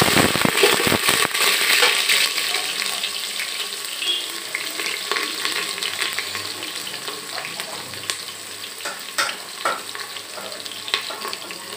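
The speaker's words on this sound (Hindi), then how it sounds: "उसमें मैंने प्याज डाल देना।" Onions frying in oil in a pan while cooking a dhaba-style spicy carrot and potato curry, giving a steady broadband sizzle with faint clinks of stirring throughout.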